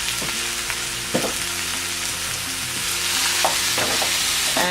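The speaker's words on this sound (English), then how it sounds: "now I'm gonna add in the ground beef." Ground beef frying in a pot with softened vegetables makes a loud, continuous sizzle, broken by occasional scraping knocks of a spoon against the pot.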